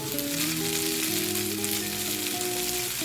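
Glass noodles frying in a pan and being stirred with a chopstick, a steady dense sizzle with faint scraping and shifting tones, close and alone without speech.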